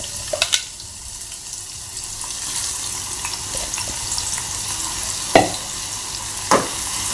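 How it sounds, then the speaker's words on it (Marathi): Finely chopped onion drops into hot oil in a pan and sizzles with a steady soft crackle, broken by a few sharp clinks and stirring scrapes. "तेल आपलं गरम झाल्यावरती याच्यामध्ये एक मी मोठा कांदा बारीक चिरून घेतलेला आहे तो घालून घेते"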